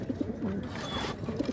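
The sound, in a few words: pigeons cooing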